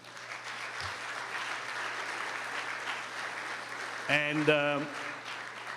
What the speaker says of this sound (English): I want to get an applause to yourself for being here tonight.